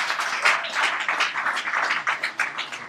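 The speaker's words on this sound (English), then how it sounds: "Let's clap." A crowd at a political manifesto launch in Gulu claps steadily and densely, a continuous bright patter of many hands filling the whole stretch with no talking.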